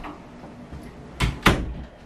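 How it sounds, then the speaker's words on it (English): A door is shut indoors at home, making two quick, solid thumps in close succession, near and fairly loud against a quiet room. "I'm closing the door"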